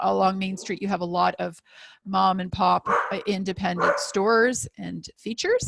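A dog barks and yips repeatedly in the background while a person talks steadily over it in the foreground.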